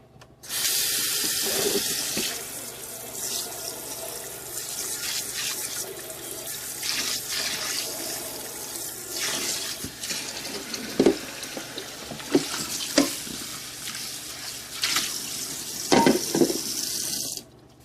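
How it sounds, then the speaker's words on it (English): Tap water runs steadily into a sink as a stainless steel appliance part is rinsed clean of gunk, with splashing surges and irregular louder spatters through the whole stretch and no talk. "Now all I gotta do is just wash it out."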